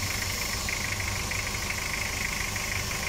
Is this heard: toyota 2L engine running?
yes